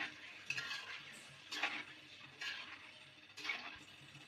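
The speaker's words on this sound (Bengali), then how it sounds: "তো ডিমগুলো আমি ভেজে নিচ্ছি" Eggs and potatoes fry in onion-flavored oil in a pan with a soft sizzle, and four distinct metallic scrapes of a spatula turning them come at roughly one-second intervals.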